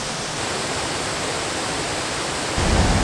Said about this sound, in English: because we're going behind the waterfall